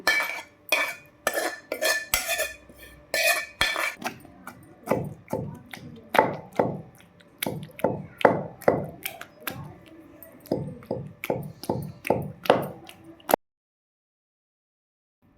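Tomato and dried red chilli chutney pounded by hand, likely with a pestle in a stone mortar: a steady run of sharp, close thuds and scrapes in uneven rhythm, stopping abruptly near the end.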